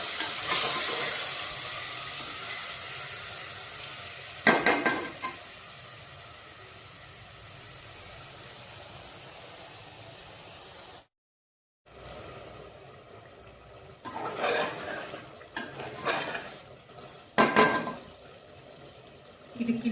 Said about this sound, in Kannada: ಈಗ ಇದಕ್ಕಿನ ಬೇಳೆ ಚೆನ್ನಾಗಿ ಒಂದು 5 ಮಿನಿಟ್ಸು ಫ್ರೈ ಆಗಬೇಕು ಆಯಿಲಲ್ಲಿ